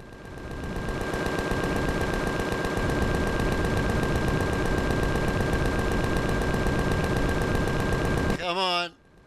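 Ship guns in the space game Empyrion fire a long, rapid, even stream of loud shots at an enemy ship, then cut off abruptly near the end into a brief warbling tone.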